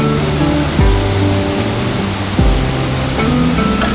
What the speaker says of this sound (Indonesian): Aliran airnya